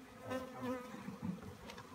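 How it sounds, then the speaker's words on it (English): Bees buzzing around an attic window in a historic house: a close, faint swarm drones with wavering pitch as individual insects fly past, with no talk. "Bees in the window."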